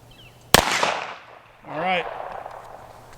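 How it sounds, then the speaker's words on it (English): A single loud, sharp gunshot from a Taurus Model 66 revolver firing .38 Special, cracking close and then decaying in a short echo, followed a moment later by a brief voice. "here's Cole with the Taurus Model 66. He's going to shoot 38 Special through it"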